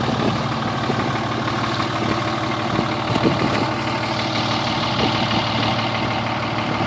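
A 2003 Dodge Cummins diesel pickup with straight-pipe exhaust idles steadily and loudly up close, a continuous rumbling drone with no voices.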